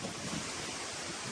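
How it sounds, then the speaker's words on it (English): Steady wind buffeting the microphone outdoors beside a home pool and lanai in Port Charlotte, Florida, a broad rushing noise with low thumps, heard alone for just over a second. "It's a windy day today"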